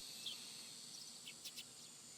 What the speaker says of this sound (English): all they let in was heat and the cries of the cicadas